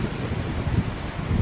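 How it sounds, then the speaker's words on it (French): Strong storm wind gusts around a low-cost greenhouse during a night-long gale, a steady rushing roar with flapping, rustling bursts close to the microphone and no voices. "le vent s'engouffre à toute sa puissance, toute la nuit aussi"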